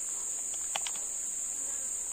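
Steady high-pitched insect whine from swarming mosquitoes in a forest near oil palm plantations in South Barito, constant and close throughout, with a few faint soft rustles and no talking.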